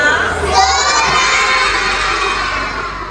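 A classroom of children shouts excitedly together, a loud, sustained, high-pitched chorus of voices close by that holds steady throughout.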